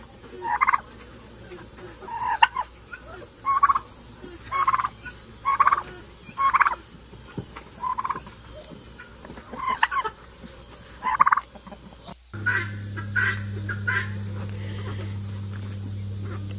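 Bourbon Red turkeys gobble repeatedly in a steady series of bursty, warbling calls, fairly close, over a constant background hum.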